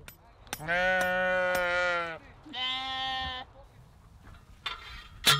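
Sheep in a hillside flock bleat in long, loud, close calls, two drawn-out cries followed by a shorter one, with quiet outdoor air between them.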